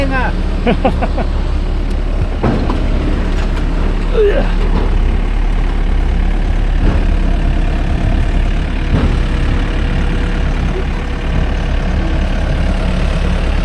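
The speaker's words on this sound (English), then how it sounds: "We're in the middle of a construction site right now." Heavy trucks and a digger idle and rumble at a construction site, a loud continuous low engine drone with occasional mechanical clanks, while a person talks over it.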